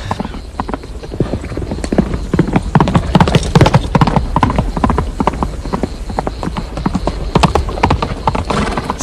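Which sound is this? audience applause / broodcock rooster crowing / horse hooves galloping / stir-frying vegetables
horse hooves galloping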